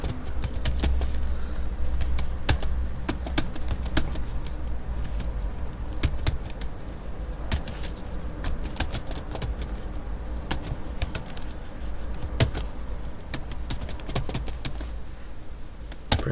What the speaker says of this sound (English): So to do that, we type